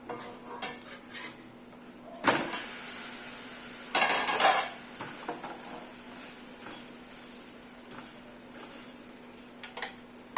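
A dosa flipped on a hot pan gives a few sharp metallic scrapes and clinks of a spatula, with a steady faint background hum between the louder bursts.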